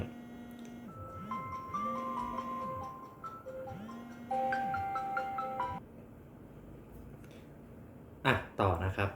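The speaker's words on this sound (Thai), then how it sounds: "พอดีว่าเมื่อกี้มีเสียงโทรศัพท์เข้ามาเนาะ" A phone rings with a melodic ringtone that repeats for several seconds at modest volume, then stops before a brief burst of louder noise.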